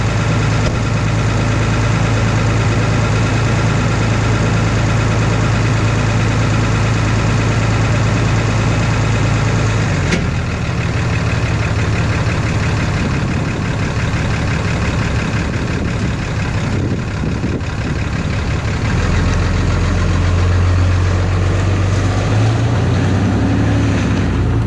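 A Cummins diesel truck engine with a 68RFE transmission runs at a steady high idle, a loud continuous drone with a low rumble that shifts pitch around the midpoint, close to the microphone and with no talk.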